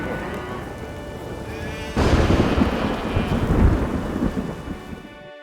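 Rain pours steadily in The Witcher 3 video game, then a loud roll of thunder breaks in partway through and rumbles on for several seconds before fading, with no talking.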